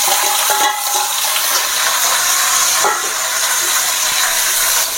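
Potatoes for a potato and tomato thokku hit a hot pan with a loud, rushing hiss like steam, steady and close throughout with slight surges.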